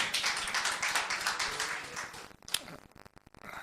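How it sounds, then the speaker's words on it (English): Audience clapping at a town council study session in Los Gatos, dense at first and then thinning to a few scattered claps before fading out. "I guess I heard clapping"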